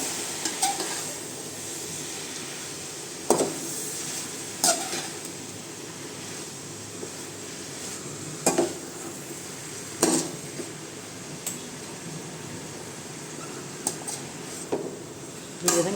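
Food being stirred and mixed in a cooking pot, with intermittent spoon-against-pot clinks and scraping over a soft background sizzle, repeating every few seconds close by.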